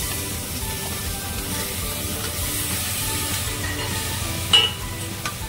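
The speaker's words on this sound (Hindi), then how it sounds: "मैं इसमें डाल रही हूँ कद्दू।" Pumpkin pieces sizzling and frying in spices in a home kitchen pan, a steady soft hiss with a faint clink near the end, heard alone at low level.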